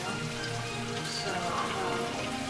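Steady rain falls outdoors near a house, a continuous even patter of drops with no breaks and no speech over it.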